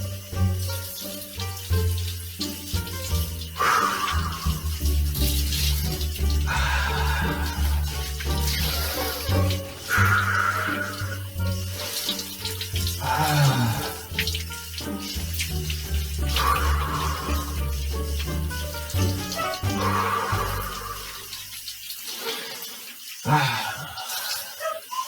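Cold water from a shower runs steadily and loudly, splashing and shifting as a body moves under the stream, with quick breaths heard through the spray.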